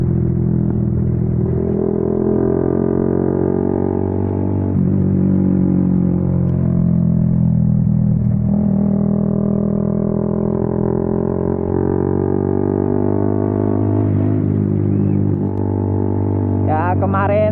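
Honda CB150 motorcycle fitted with a Trioval K2 exhaust, close and loud, its deep bassy engine tone held steady with a few rev swells, someone talking over it.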